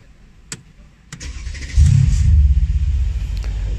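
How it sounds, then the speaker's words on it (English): A Mercedes-Benz C63S AMG, just fitted with a new battery, starts up: a couple of sharp clicks, a brief crank, then the engine catches with a deep, loud rumble that settles into a strong idle, close by and with no talking. "Mari kita cuba start engine."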